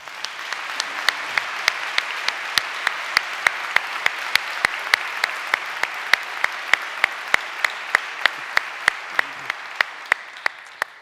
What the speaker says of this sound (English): we should have a round of applause for him